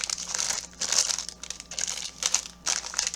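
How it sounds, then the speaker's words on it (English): Polymer clay being wrapped in its crinkly wrapper, a close, steady run of crackling and rustling with small bursts of louder crinkles, no talking. "I wrap it in the wrapper, and then if I'm not going to use it for a while, I put it in a plastic bag."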